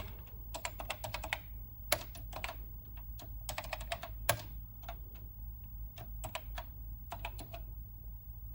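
Typing on the keyboard of a BBC Micro B computer, with close, crisp key clicks in quick bursts and short pauses, some single harder keystrokes standing out.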